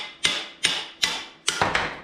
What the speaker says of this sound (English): Let's get a hammer.